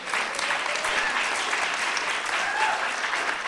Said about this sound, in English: Now that's worth an applause right there.